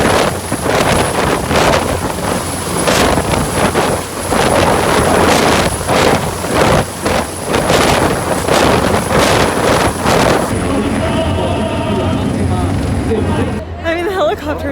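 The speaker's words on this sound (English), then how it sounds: "I mean, the helicopters were cool." Military helicopters thump overhead during a parade in Mexico City, with rhythmic rotor pulses and heavy wind buffeting, while voices murmur in the background before the noise eases.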